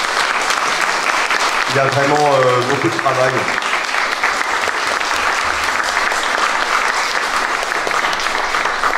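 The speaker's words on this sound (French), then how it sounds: "Je pense qu'on peut les applaudir" Congregation applauding the singers at a Breton chapel pardon at Notre-Dame de la Roche, Saint-Thois, with sustained steady clapping throughout and someone speaking briefly in French over it near the start.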